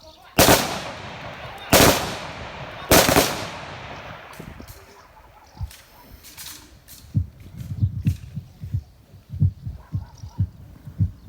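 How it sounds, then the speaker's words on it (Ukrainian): Three loud automatic rifle volleys ring out one after another, evenly spaced, as an honour salute at a Ukrainian memorial, followed by quieter crowd shuffling and murmuring. "трьома автоматними пострілами. Залпом! Вогонь!"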